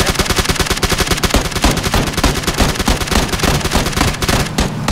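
Rapid bursts of gunfire from the PUBG battle royale video game, loud and continuous, with dense automatic fire and sharp reports packed throughout.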